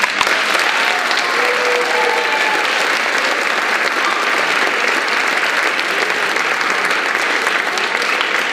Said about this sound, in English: how about another round of applause for the percussion ensemble?